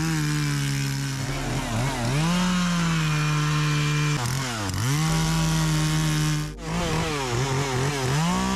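A Husqvarna 120 Mark II chainsaw with a 16-inch bar runs loudly up close, its engine buzz rising and falling in repeated revs and dips, with a sharp drop near the end before revving again.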